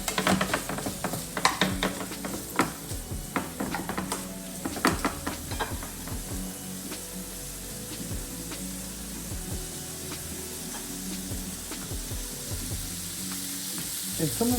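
Skinless chorizo frying in a pan for charro beans gives a steady, dense sizzle and crackle, punctuated by scraping and stirring clicks that are busier early on, close up and with no voices.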